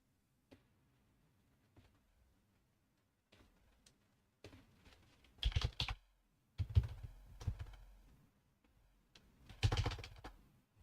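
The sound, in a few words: typing on a computer keyboard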